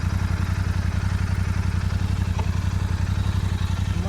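A Royal Enfield Continental GT 650 idles through its stock exhaust, a close, loud, even low thump with a fast steady pulse and no other sounds over it.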